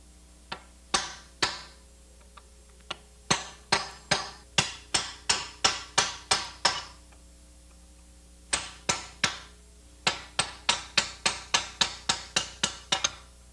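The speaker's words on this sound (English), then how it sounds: "we strike the chisel down and it will start to draw the bushing out of the control arm" A hammer strikes a chisel to drive a bushing out of a car's front control arm, giving loud, sharp metallic blows in rapid runs of about ten, with short pauses between runs.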